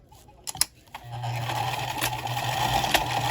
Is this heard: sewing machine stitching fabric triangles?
yes